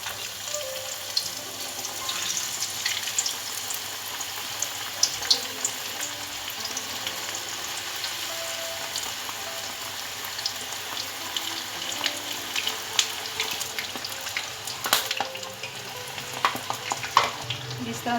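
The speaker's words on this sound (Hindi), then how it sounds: "अब इनको मैं फ्राई करूँगी।" Chicken and cheese packets fry in hot oil with a dense, continuous sizzle and crackle. Scattered sharper pops and light stirring clatter run through it, close and steady with no talk.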